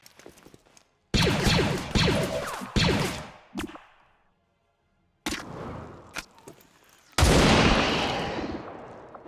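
Bursts of video game gunfire from XCOM 2 with a Clone Wars conversion, loud rapid volleys in several separate clusters with short silent gaps, the last barrage the longest and heaviest.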